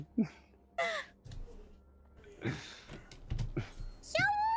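Scattered bird calls in the video game Garfield Kart Furious Racing, caw-like squawks and chirps, come at irregular intervals, fairly faint, with low background noise and some murmured sound between them.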